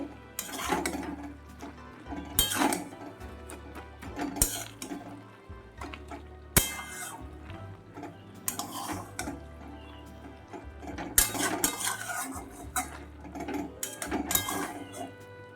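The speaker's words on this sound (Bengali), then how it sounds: "এবার নাড়িয়ে চাড়িয়ে নেব কিছুক্ষণ" Pui shak chochori vegetables being stirred in a pan, with intermittent scraping and clattering bursts of a spoon against the pan, fairly quiet with gaps between strokes and no talking.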